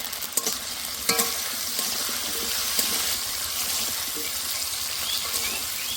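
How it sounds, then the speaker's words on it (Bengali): Potatoes seasoned with salt and turmeric fry in a pan, a soft continuous sizzle broken by a few sharp scrapes and clinks of stirring, close and moderately quiet with no talking. "এবার আলুগুলো ভালো করে ভেজে নেব"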